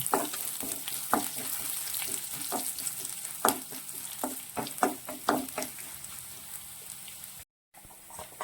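Oil sizzles and crackles in a pan while a utensil scrapes and stirs in repeated strokes, frying until golden brown, close and fairly loud, with no talking.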